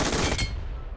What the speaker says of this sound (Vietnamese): bên kia vẫn còn tiếng súng nhỉ